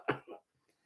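A single short cough, two quick close bursts followed by silence.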